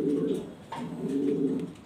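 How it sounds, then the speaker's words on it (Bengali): Jharna shirting pigeons coo nearby in soft, low rounded phrases, two drawn-out coos separated by a brief pause. "খুবই সুন্দর আনকমন কবুতর, ঝর্ণা শার্টিং কবুতর।"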